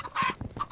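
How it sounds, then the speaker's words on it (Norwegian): Minecraft chickens cluck in a few short, close bursts, with a brighter squawk near the middle and softer clucks following, no talking over them. "Jeg må drepe kyllinger, det er viktig."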